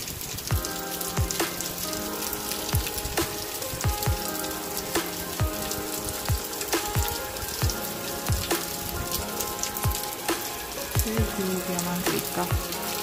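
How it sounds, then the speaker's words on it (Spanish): Heavy afternoon rain pours steadily, a dense hiss of drops pattering on surfaces with scattered louder splats, continuous and close throughout without talk. "Miren qué rica lluvia."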